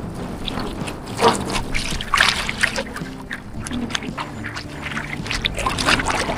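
Strong water current rushing around a fishing boat, a continuous close wash with splashes and trickling surges; a voice can be heard over it.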